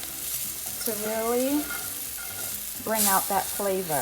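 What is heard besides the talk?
garlic, parsley and curry sautéing in a pan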